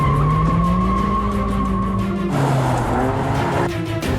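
A car drifting around a track in a driving test, engine roaring loud and close while tires squeal in long sustained screeches that shift pitch as the car slides.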